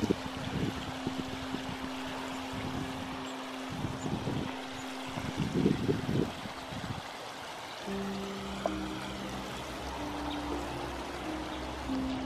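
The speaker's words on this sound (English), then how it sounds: "Another clip of this beautiful waterfall." A waterfall flows in a steady, broad rush of water, joined by low humming tones that come and go.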